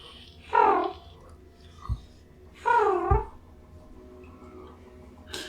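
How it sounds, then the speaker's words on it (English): Two drawn-out cat meows, clear and fairly close, separated by a short pause, with a soft thump between them and a brief rustle at the end. "Kitties!"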